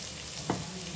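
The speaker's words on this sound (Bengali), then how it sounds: "শুকনো মরিচ দিলাম, বাগার দিব" Dried chilies dropped into hot oil for tempering make a short burst of sizzling with a brief stirring scrape partway through.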